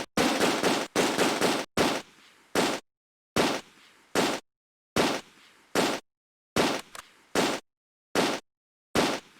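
Machine gun fire from the video game Close Combat: A Bridge Too Far comes in about a dozen short, loud, sharp bursts, evenly spaced and separated by near-silent gaps.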